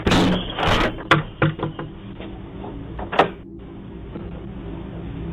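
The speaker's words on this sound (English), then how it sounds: "As the door is being closed on him, the man forcefully punches the glass on the door." A man punches the glass of a front door as it is being closed on him, caught by a doorbell camera: a few knocking thumps followed by a sharp, loud bang, then a steady background hum.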